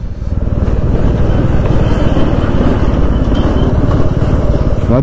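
Loud, steady drone of a motorcycle engine thrumming nearby on a rough, dusty, muddy road between Kathmandu and Pokhara, rumbling without pause for several seconds.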